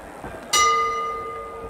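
A boxing ring bell strikes once to end a round at a professional fight night, its bright metallic ring sustaining and slowly decaying over crowd background noise.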